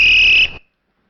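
A parrot mimics a referee's whistle with one shrill, steady high tone lasting about half a second, then clipping off abruptly into silence.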